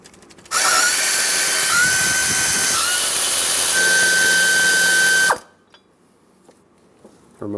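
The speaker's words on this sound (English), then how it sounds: "I'll put a power tool on to make things a little quicker" A power tool drives a socket to loosen bolts on the alternator bracket of a 2003-2009 Dodge Ram 2500 with a 5.7L V8, whirring loudly and steadily for about five seconds close up before stopping abruptly.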